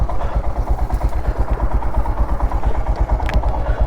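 Motorcycle engine running close by with a steady, pulsing low putter and some clatter, continuous throughout.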